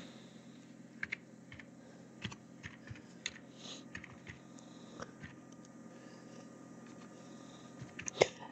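Typing a search on a computer keyboard, quiet, uneven keystroke clicks in short bursts and single taps, with a louder key press near the end against a soft room hum.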